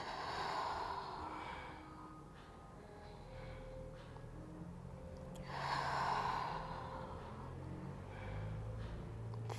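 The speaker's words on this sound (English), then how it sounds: "We hold for 5 deep breaths, breathing in through your nose and out." Slow, deep yoga breaths drawn in through the nose and let out during a held boat pose, soft and close, with two fuller exhalations rising over a quiet room tone.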